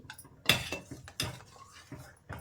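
Curd being mixed into buttermilk curry in a metal pot: irregular spoon strikes and scrapes against the pot, a few sharper clinks among softer stirring, close and fairly quiet.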